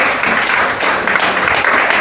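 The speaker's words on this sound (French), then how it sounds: "par vos acclamations, vous allez m'aider à appeler sur le podium Monsieur Fabrice" A crowd at a presentation greets a speaker called to the podium with loud, sustained clapping and cheering, a dense steady roar with voices mixed into the applause.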